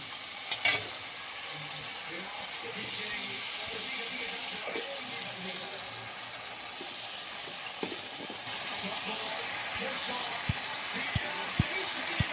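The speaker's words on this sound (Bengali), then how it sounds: "মশলাগুলো ভালোভাবে কষাবে বন্ধুরা, আঁচটা কমিয়ে দেবে আর আস্তে আস্তে করে মশলাগুলোকে কষাতে থাকবে" Spices frying and being stirred slowly in oil over low heat for a Bengali home recipe: a steady soft sizzle with occasional scraping and clicks of the spoon against the pan, no talking.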